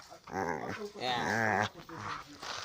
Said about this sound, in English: the dogs are just here